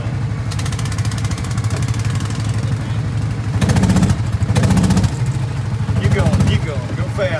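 Antique car on the Kings Island ride idling with a low, close, pulsing putter that swells a few times, while people talk over it.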